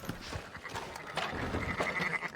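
Sheep bleating in the Red Dead Redemption 2 video game, with a sustained, wavering bleat rising out of a busy farm-like background of shuffling and rustling.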